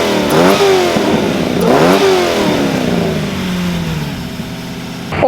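Custom Mustang engine running through a custom exhaust, revving loudly twice to a rising roar then settling back to a deep, rumbling idle, close by and with no talking.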